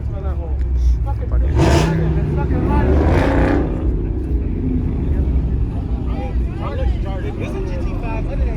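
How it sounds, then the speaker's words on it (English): A Ford Mustang drives past at a car meet, a broad engine swell rising and fading over a few seconds amid steady outdoor background noise, with people talking nearby. "I think it's a Mustang."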